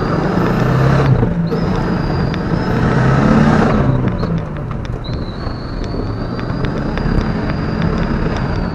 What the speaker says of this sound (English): Gotta let that turbo spool.